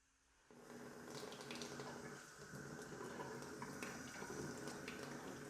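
Water running from a tap in a laundry room of a house under renovation, starting abruptly and then flowing in a steady faint rush that continues to the end.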